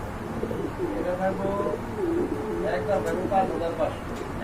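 A pair of pigeons at a pigeon sale make soft, low cooing calls close by, repeated in short murmuring phrases while someone talks over them.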